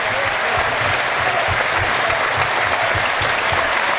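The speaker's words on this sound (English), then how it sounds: "these York City supporters applauding all their players tonight" York City supporters applauding their players at a night football match against Carlisle United, a steady, loud wash of clapping from a large crowd that carries on throughout with no pauses.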